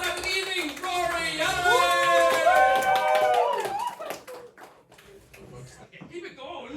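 Pub crowd at an open mic night in a bar claps for the evening's last act, scattered claps under a talking voice and sung or voiced tones before the clapping thins out.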